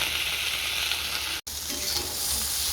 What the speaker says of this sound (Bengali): ঢ্যাঁড়স ভাজা হয়ে গেছে